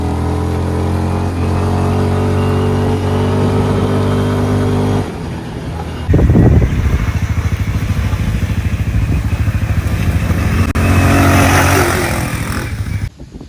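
Roketa 300cc and CFMOTO 450cc ATVs ride off-road through mud and rough terrain in Barbados. A steady engine drone gives way to louder, rougher revving with rattling and clatter partway through.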